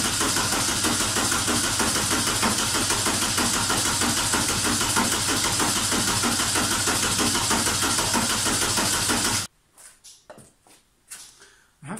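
Volkswagen T25 engine cranking over and trying to start, a loud continuous churning drone for about nine seconds that cuts off abruptly, followed by a few faint clanks and knocks.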